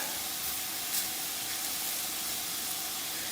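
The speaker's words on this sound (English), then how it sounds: "So this is all just going to sort of saute together." Egg roll in a bowl filling sautes in a pan, giving a steady soft sizzle and hiss that stays even throughout, with no talking.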